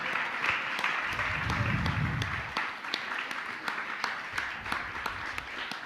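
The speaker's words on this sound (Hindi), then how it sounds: "आप लोग ताली बजाते रहिए" Audience at a Jain religious gathering applauding to welcome trustees, a broad, sustained wash of many hands clapping at a distance, steady and dense throughout with faint voices underneath.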